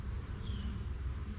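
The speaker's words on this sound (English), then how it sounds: "And they sound like a queen right hive." A soft, steady buzzing hum of many honeybees in a queenright hive, continuous and fairly faint, with no voices.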